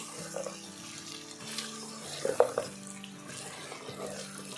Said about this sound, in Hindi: यहाँ पे ऑयल डालने के बाद इसको अच्छी तरह हमने फ्राई करना है गोश्त को